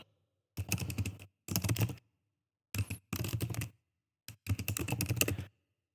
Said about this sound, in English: I will type it in the chat on Second Life as well.